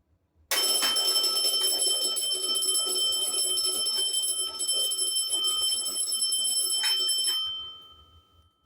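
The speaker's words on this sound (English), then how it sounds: "It's the fire alarm bell." A fire alarm bell rings continuously and loudly for about seven seconds, then cuts off and fades away.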